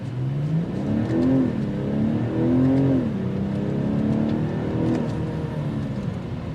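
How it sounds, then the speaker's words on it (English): A 2024 BMW 840i convertible accelerates hard from 0 to 60, its engine revving up through several gear changes with rising and dropping pitch, close and loud with no talking. "let that car go a little bit so that way we can actually see the full 0 to 60 performance now"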